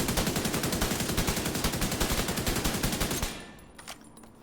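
FAL rifle in The Division 2 firing a sustained rapid burst of loud, closely spaced shots for about three seconds, then cutting off into quiet with a couple of faint clicks.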